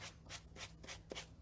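A sanding block scraping torn paper edges off a decoupaged notebook board: quick back-and-forth rubbing strokes in a steady rhythm, soft and close, with no voices.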